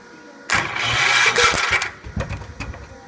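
A Cub Cadet 125 lawn tractor engine, primed with ether, catches abruptly and roars briefly up close, then sputters and stumbles in uneven bursts as it fails to settle.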